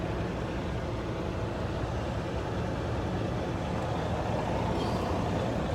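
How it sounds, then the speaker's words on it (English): Trucks speed down a road in a continuous loud roar of engine and tire noise that rumbles without a break, with no speech over it. "these trucks just be flying down the road"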